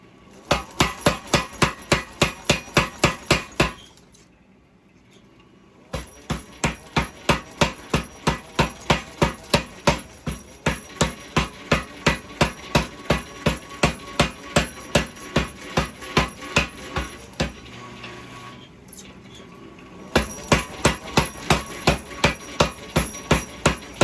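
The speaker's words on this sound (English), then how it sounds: "I should be able to keep forging it out at a lower temperature" A blacksmith's hammer pounds a Damascus steel billet in rapid, regular strikes, loud and ringing, with two short pauses before the rhythmic blows resume.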